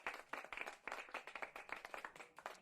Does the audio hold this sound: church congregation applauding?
yes